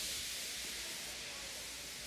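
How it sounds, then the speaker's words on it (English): A steam locomotive in a Trainz railway simulation lets off steam, giving a steady, soft, broad hiss that holds evenly throughout, with no voices heard. "He just let off steam feebly."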